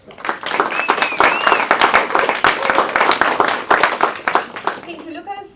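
Audience applause greets a moderator at a talk on the history of democracy in Romania, a dense, steady roar of many hands clapping close by that holds for several seconds before thinning out at the end.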